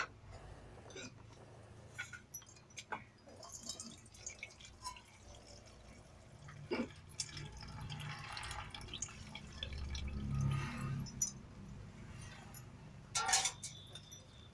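Flattened rice (chuda) being washed in a bowl of water makes quiet splashes and drips, with faint sloshing and occasional small clinks close by, and a slightly fuller stir of water partway through.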